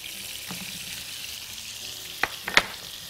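Red onion frying in olive oil in a hot wok, a continuous close sizzle with a few sharp metallic clinks of a utensil near the end.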